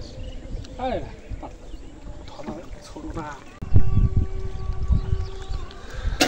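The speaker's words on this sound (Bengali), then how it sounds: "আর এই যে আমার মাঝি ভাই আমার নৌকা ঠেলতেছে" Water sloshes and gurgles around a small wooden boat as a boatman pushes it along mid-river, with voices talking in the background and a louder splash partway through.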